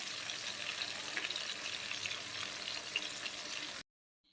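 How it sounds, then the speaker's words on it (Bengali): Hilsa fish frying in oil in a pan, a steady broadband sizzle at close range that runs evenly for almost four seconds and then cuts off abruptly. "অফ ক্যামেরায় বন্ধুরা আমি মাছটা ভেজে নিচ্ছি"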